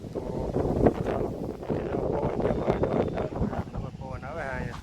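Wind blows outdoors in strong, steady gusts, rumbling across the microphone while a person speaks over it.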